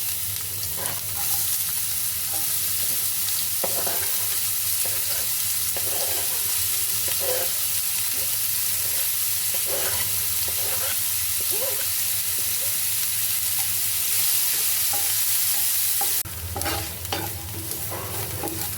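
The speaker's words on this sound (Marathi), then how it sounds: "आपलं तेल तापलेलं आहे. आपण त्यामध्ये कापून घेतलेला कांदा घालणार आहोत." Chopped onion frying in about two spoons of hot oil for a bitter gourd dish, a loud continuous sizzle with frequent spatula stirring scrapes, flaring brighter near the end.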